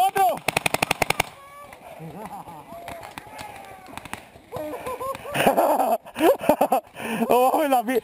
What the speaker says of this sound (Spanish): Festín de tiros!